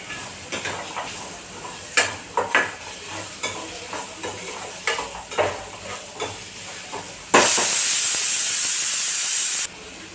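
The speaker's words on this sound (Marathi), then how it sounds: "कांदा छान फ्राय करून घेऊया थोडासा" Chopped onion fries in a pan at home, soft sizzling broken by repeated scraping stirs of a spoon, then a sudden loud hiss of steam for a couple of seconds before it settles; no talk.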